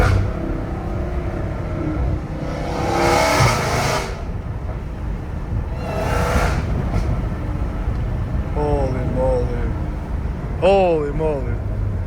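A Dodge Hellcat Redeye fitted with a titanium catback exhaust roars in steady rising-and-falling surges, heard from inside the car on city streets, with two strong throttle swells and a constant engine rumble; a voice speaks briefly near the end.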